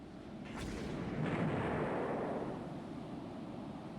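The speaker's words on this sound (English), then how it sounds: "Yay, they finally got it with a torpedo" A torpedo strikes a ship in the naval strategy game Rule the Waves 3, producing a loud, rumbling blast that swells over a couple of seconds and then slowly fades into a sustained roar, like distant artillery over sea noise.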